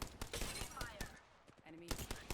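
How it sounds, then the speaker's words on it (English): Rapid gunfire in a video game, a quick string of sharp cracking shots in bursts with a short lull midway, quiet overall and mixed with faint game sounds. "Wait, I'm getting shot by a..."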